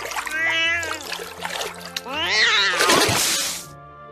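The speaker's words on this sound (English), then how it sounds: "She enjoyed giving Cinderella extra chores to do, such as bathing her cat Lucifer" An animated cat yowls and caterwauls loudly while being bathed, with rising and falling cries over water splashes and background music.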